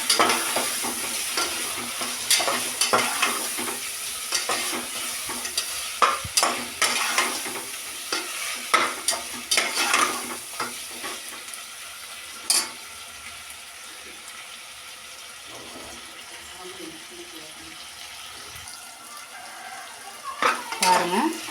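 Small cut tomatoes sauté in a pan with a hissing sizzle and frequent clinks and scrapes of a spoon against metal. The stirring is busy at first, then the sizzle settles quieter before a few final scrapes, and no one speaks.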